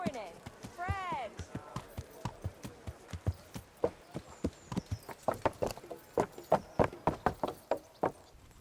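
Steady clip-clop of horse hooves in Kingdom Come: Deliverance trots along in a regular rhythm, with a whinny near the start and voices faintly underneath.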